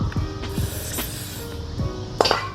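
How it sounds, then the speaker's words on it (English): WD-40 penetrating oil is sprayed in a few short hissing bursts while working on rear wheel studs and the parking brake of a 2016 Subaru BRZ, with light metallic clinks in between, close and moderately quiet. "So just spray a little bit more WD-40"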